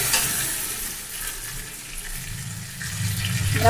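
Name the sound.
pouring hot water into tilapia and vegetable curry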